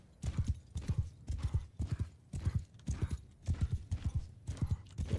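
Horse hooves clip-clop steadily in Mount and Blade 2: Bannerlord as cavalry moves across a battlefield, a loud, continuous rhythmic gallop of overlapping hoofbeats with no talk over it.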